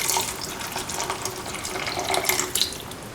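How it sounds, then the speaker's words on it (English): Tamarind-soaked water pours into an okra, lentil and ground coconut curry, a continuous splashing stream with small bursts of bubbling, close and alone. "Now pour in the water into which the tamarind has been soaked and squeezed."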